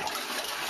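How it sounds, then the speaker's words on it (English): A toilet flushing, a steady broadband rush of water that holds at an even level through the whole short stretch, close by and with no one talking. "What happens when you flush the toilet?"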